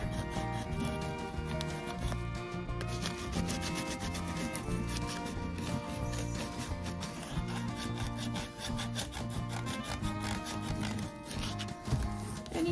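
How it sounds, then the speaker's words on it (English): Painted wood on a thrifted wooden Easter cross is scuffed with continuous, rapid rubbing and rasping strokes, set against steady background music and no speech. "you can scuff it as much or as little as you like"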